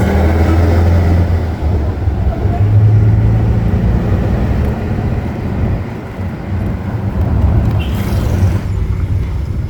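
A shared car drives along a busy road toward Assomada on Santiago Island, Cabo Verde, with a loud, steady engine and road rumble heard from inside and a brief passing swish near the end.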